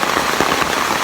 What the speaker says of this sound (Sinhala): හොඳටම වහිනවා මේ